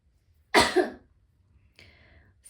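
A single sharp cough bursts out close and loud, followed by a fainter throat-clearing rasp about a second later, in an otherwise quiet room.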